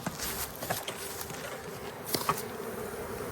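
Honey bees swarming over an opened hive during a spring inspection, a soft continuous buzzing hum with a few brief louder passes of individual bees close by and no talking.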